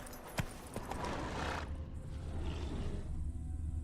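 Roach, a horse in The Witcher 3, moving with a few hoof clops and a brief whinny over a dense game-world background that thins out partway through.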